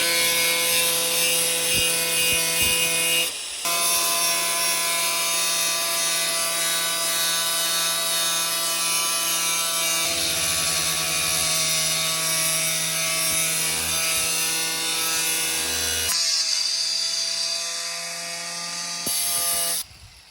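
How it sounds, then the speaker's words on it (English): A power cutting tool grinds steadily and loudly through rusted metal in the inner wheel arch of a Vauxhall Nova. The harsh, continuous whine shifts in pitch slightly and briefly dips a few times before the cut ends. "Okay, so we've cut the outer off here, and I've just cut this bit out of the inner."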